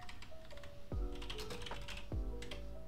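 Keystrokes on a computer keyboard as a git clone command is typed, a steady close run of clicks with two heavier thumps, likely the enter or space key, and no talking.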